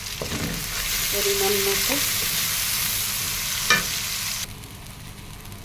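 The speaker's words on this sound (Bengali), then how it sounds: "তো পেঁয়াজটা ভেজে নিই।" Onion and green chili frying with salt in a pan, a continuous close sizzle with a light stir, briefly under a short spoken remark, then dropping off sharply near the end.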